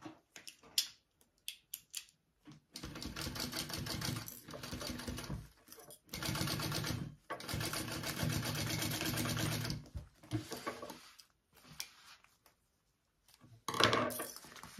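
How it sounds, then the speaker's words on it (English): A sewing machine stitches the lining of a sewing project in several bursts of rapid, even mechanical whirring, separated by pauses and a few small clicks, heard up close and alone. "you're going to sew that at your full seam allowance"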